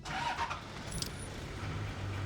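An old Land Cruiser engine, started after 26 years, idles steadily with a low rumble throughout, with a brief light metallic jingle near the start.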